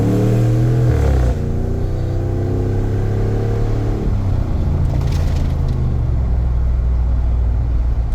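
A truck engine fitted with JBA short tube headers and a cold air intake rumbles loudly up close, with rising rev sweeps early on before it settles into a deep, steady idle-like drone.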